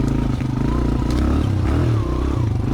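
A Suzuki DR-Z dirt bike runs steadily over rough off-trail terrain, its engine droning loud and close for the whole stretch, with clattering and scraping from the bumpy ground.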